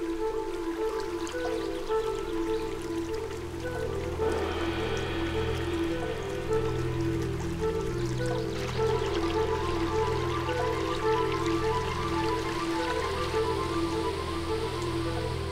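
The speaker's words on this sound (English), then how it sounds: "The streams reach their limit." Rainwater streams swollen by heavy rain rush through a forest in Germany's Harz mountains, a steady, continuous broadband wash of flowing water that stays at an even level throughout.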